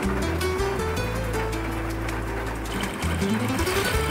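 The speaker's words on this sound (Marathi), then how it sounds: "मी कशा पद्धतीने तिची शिलाई मारत आहे" Sewing machine stitching the side seam of a plain salwar, a steady continuous motor hum and needle rattle running close and loud, briefly easing near the end before resuming.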